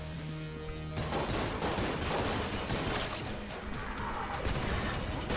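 The Mine Cutter gun fires in Enter the Gungeon, a dense continuous barrage of loud rapid shots that starts abruptly after a second of musical tones and keeps going under the game music, no talk.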